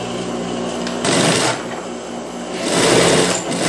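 A sewing machine stitches the armhole seam of a child's dress, its fast mechanical whir steady and close, swelling louder in two longer runs with a brief slower stretch between.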